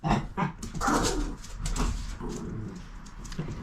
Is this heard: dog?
yes